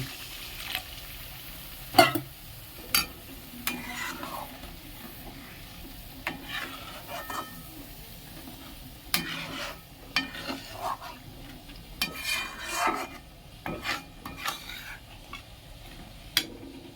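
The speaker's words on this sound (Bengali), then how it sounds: "ঝোল ফুটে গেছে" Catla fish curry gravy in poppy-seed paste bubbles in a pan while a spoon stirs it, giving scattered scraping clinks over a soft, steady simmer, close up with no talking.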